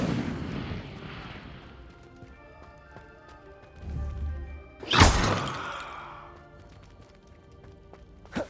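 An Incendio fire spell is cast in Hogwarts Legacy: a sudden loud whooshing flare bursts out midway and fades over about a second, with softer thuds and a brief rumble before it and a faint crack at the end.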